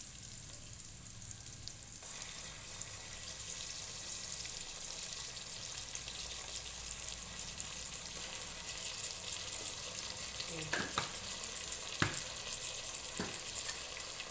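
Ginger garlic paste fries with already fried onions in hot oil, a steady loud sizzle running throughout as the mixture is stirred, with a few sharp scrapes and clinks of the spoon against the pan near the end.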